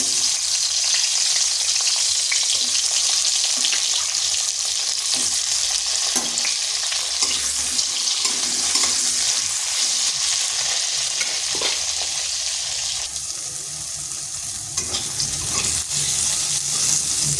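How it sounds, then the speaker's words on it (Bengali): Steady, crackling sizzle of eggplant frying in hot oil in a wok, continuous and close, with occasional louder pops and no talking. "কড়াইতে তেল দিয়ে দিয়েছি, বেগুনগুলোকে ভেজে নেব।"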